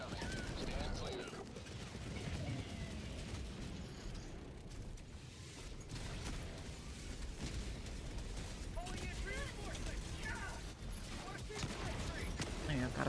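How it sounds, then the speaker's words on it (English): Orbital barrage explosions in Helldivers 2, a steady churning roar of rumbling blasts and booms across the whole span, with rapid impacts layered over one another and a voice talking through parts of it. "Requesting orbital. Orbital barrage incoming."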